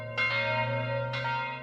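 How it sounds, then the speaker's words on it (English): Local church bells on a Sunday morning, two resonant strikes about a second apart over a long humming ring, heard from a moderate distance. "A sound which accompanies Sunday mornings are the bells from local churches."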